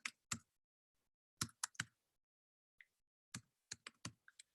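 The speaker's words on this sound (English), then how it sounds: "I'll type out my name" Keystrokes on a computer keyboard as a name is typed out, in short bursts of crisp clicks separated by pauses, close and fairly quiet with no talking.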